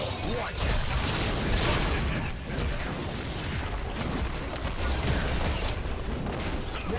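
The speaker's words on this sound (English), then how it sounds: "Team's inhibitor has been destroyed." An inhibitor is destroyed in League of Legends, a dense, noisy burst of crumbling and crackling game effects. It stays loud and steady across the whole stretch, with busy mechanical clatter throughout.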